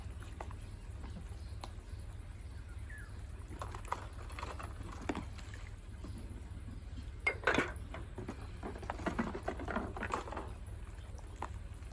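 Quiet clinks and clatters of dishes and utensils being washed, scattered irregularly over a low steady background hum.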